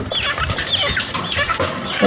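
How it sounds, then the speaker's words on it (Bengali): Chickens brought from a relative's home cluck and chatter close by, with a few short, scattered calls over a noisy background. "আপনারা যে দেখতে পাচ্ছেন এগুলো হচ্ছে মুরগি"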